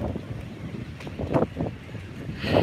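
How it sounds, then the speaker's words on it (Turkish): Strong wind on South Beach, Miami, buffets the microphone in a steady rumbling roar with gusty swells, loud and close, with no speech. "çok rüzgar var"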